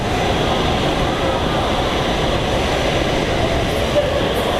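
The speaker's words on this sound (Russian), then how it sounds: "Дамы и господа, мы в метро Стокгольма" A loud steady rumble of a train in a Stockholm metro station, constant and enveloping, with a faint squeal near the end.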